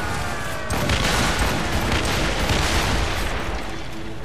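Ship cannons firing during a naval assault on a fort in Assassin's Creed Rogue: a dense, continuous roar of booming broadside blasts rolls on throughout, loud and close, with no clear gaps between shots.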